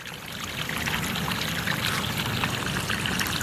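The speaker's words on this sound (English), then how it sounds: "Yeah, the water's circulating around it" Water from a homemade pond bog filter, a continuous close splashing trickle and pour that runs steadily at moderate loudness with no other sounds over it.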